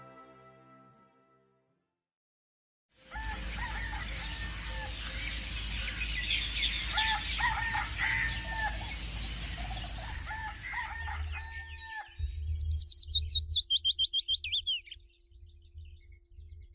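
After a few quiet seconds, a hen clucks close by in a series of short, throaty calls over a low hum. Higher, rapid peeping chirps then take over toward the end.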